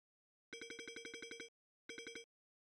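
A telephone bell rings with a rapid trill, first in a burst of about a second, then in a shorter second burst after a brief pause, clear and alone with no talk.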